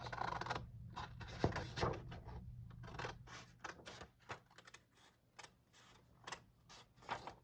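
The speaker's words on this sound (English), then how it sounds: "I'm just gonna cut a little square out of it." Pink paper being cut into a small square with scissors, giving quick, close, crisp snips in a steady run with brief pauses.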